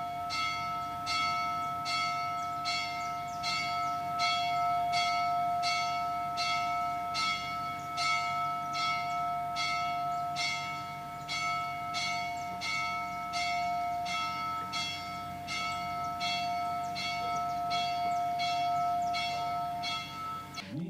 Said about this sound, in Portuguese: os sinos da igreja tocaram